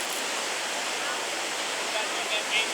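Rough whitewater rapids on the Chattahoochee River, where kayakers practice tricks, produce a dense, steady roar of rushing water that stays loud and close throughout.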